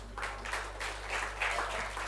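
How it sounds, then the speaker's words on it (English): An audience at a poetry reading claps in a short, fairly soft burst of scattered applause over a steady low electrical hum. "I like that line that you guys clapped at"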